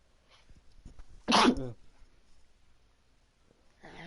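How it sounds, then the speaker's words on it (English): A single sharp sneeze bursts out, brief and close, between quiet stretches, followed by the start of someone speaking. "I sneezed and that really hurt"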